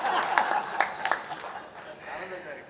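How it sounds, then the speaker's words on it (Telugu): Audience applause at a Telugu book event honouring Suddala Hanumantu, a short burst of clapping from the crowd with a few sharper claps standing out, then fading under a brief voice near the end. "చప్పట్లు కొట్టండి మీరు సార్కి"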